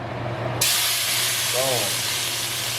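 Shrimp dropped into a very hot pan of smoking olive oil, bursting into a loud, steady broadband sizzle after a quieter start, with a brief voice over the frying.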